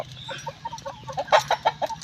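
Young chickens on a Burmese chicken farm cluck in quick, choppy bursts close by, a busy, overlapping series of short calls over a faint low hum.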